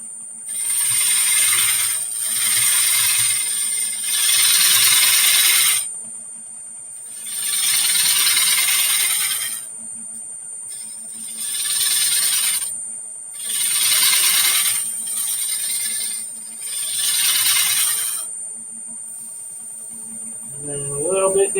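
A wood lathe spins while the wing of a gouge takes a shear scrape, producing a steady whine with repeated long bursts of hissing, rasping cuts about two to three seconds each, loud and close, followed by a brief voice at the end.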